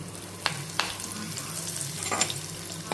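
Red chilies, fenugreek powder, asafoetida and curry leaves fry in hot oil as a tempering, giving a steady close sizzle broken by a few sharp crackles and stirring taps, with no voices.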